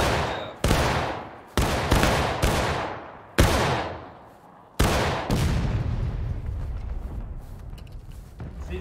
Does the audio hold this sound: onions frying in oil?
no